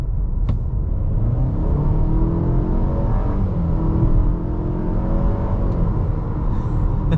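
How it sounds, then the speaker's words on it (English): A 2023 Cadillac XT4 floored from 25 mph sends up a loud, steady engine drone from inside the cabin as it climbs through the gears, with road rumble running underneath. "we're simply just going to floor the throttle and see what happens."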